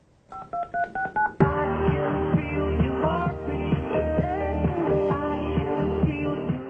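A telephone keypad is dialed, six quick two-tone beeps in a row, then a radio show's music bed and jingle take over and carry on loudly.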